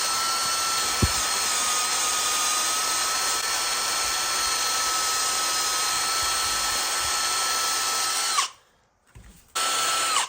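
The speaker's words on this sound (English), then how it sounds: "run a wire brush and a drill just to get rid of everything." A power drill spins a wire brush removing rust from an ASV bogie wheel, with a continuous high whine and scraping hiss, stopping briefly near the end and then starting again.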